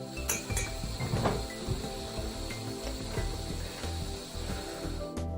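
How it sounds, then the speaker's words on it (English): A red-hot spoonful of chromium oxide goes into a glass jar of ammonia, giving scattered sharp clinks and crackles over a steady hiss and low hum. "let's add the retrieved red hot chromium oxide into our jar"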